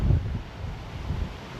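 Blustery wind at a lure fishing session in 18-knot winds, a low rumbling buffet against the microphone that swells at the start and again briefly near the end, with no voices.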